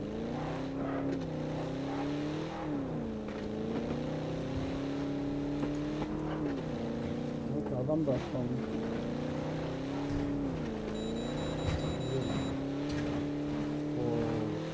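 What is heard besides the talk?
car driving in PUBG Battlegrounds video game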